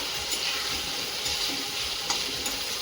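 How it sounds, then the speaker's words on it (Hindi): Garlic and onion sautéing in oil for a ridge gourd sabzi: a steady, soft sizzle with light stirring clinks and scrapes. "अब इसे अच्छी तरह भून देंगे जिससे लहसुन का"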